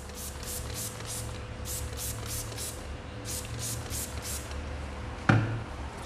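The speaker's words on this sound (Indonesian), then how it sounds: "Oke, saya semprot sekali lagi, kali ini vertikal." A sprayer mists liquid onto a printed T-shirt in a DTG print test, a string of short rhythmic spray bursts, about a dozen, over a steady background hum, ending in a sharp knock.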